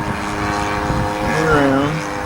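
A 50cc RC airplane engine at about three-quarter throttle buzzes steadily with a shifting pitch as the plane passes, loud and fairly close, with voices over it.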